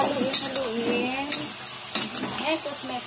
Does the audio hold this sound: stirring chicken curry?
yes